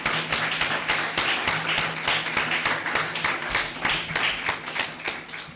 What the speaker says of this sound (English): I would ask you to give him another round of applause